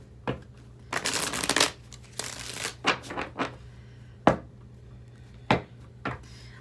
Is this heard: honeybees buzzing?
no